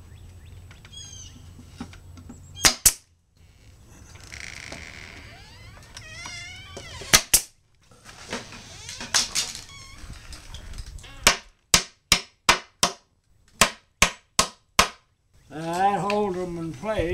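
A nail gun drives fasteners into honeybee box parts, several sharp isolated shots spaced through the clip, with a rapid run of about eight bangs near the end amid workshop noise and bird-like chirps.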